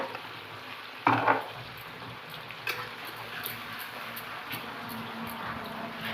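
Ginger garlic paste frying in a pan for Bengali prawn malai curry, a faint continuous sizzle with a few soft stirring knocks and scrapes, one clearer clatter near the start.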